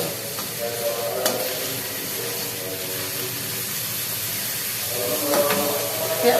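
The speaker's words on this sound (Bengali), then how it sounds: "চিকেনটাকে ভুনায় নিচ্ছি পেঁয়াজ পেঁয়াজ ভুনিয়ে পেঁয়াজ ভুনিয়ে" Chicken and onions frying down for shahi biryani, a steady hissing sizzle with occasional stirring knocks and scrapes, close and even, growing a little louder toward the end, no talk.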